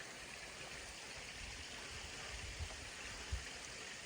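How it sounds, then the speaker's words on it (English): Steady, faint rush of a small waterfall in a snowy ravine, a continuous wash of water with a couple of soft splashes, heard from a distance with no voices. "This is the first of the waterfalls, so not much to see unfortunately, but it's a fair sized ravine."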